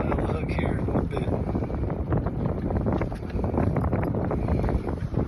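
Steady gusting wind buffets the microphone with a continuous rough roar throughout, outdoors while trout fishing in Utah.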